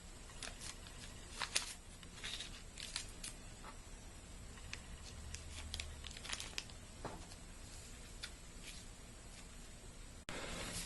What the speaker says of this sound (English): The first thing you're going to do is take your tape and tape off one end.